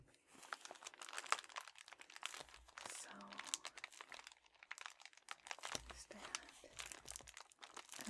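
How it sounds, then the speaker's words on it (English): Plastic packaging from an Ipsy makeup bag crinkles and rustles up close in irregular bursts and soft crackles, with quiet talk and a few light taps mixed in. "the sound the packaging makes"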